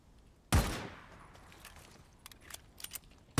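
Gunfire in the zombie-horde action game Days Gone: a single loud, sharp shot with a decaying tail, then a few quieter distant cracks and another loud shot at the end, with no talk.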